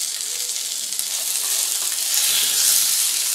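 Tomatoes and coconut sauté in a pan for a coriander thuvayal, giving a steady close hiss of frying that holds even and continuous throughout, with no voices.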